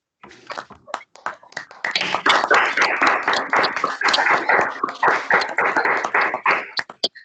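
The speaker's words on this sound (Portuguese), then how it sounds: "Então, vamos à salva de palmas" A small group gives a speaker a brief round of hand claps at the close of a live session on traffic rules, separate claps building into a steady patter for several seconds, then tapering to a few last claps.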